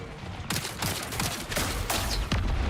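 Bursts of gunfire in the shooter game Marathon, a rapid run of sharp cracks that repeat in clusters across a few seconds, moderately loud with no talking.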